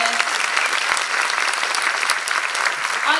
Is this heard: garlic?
no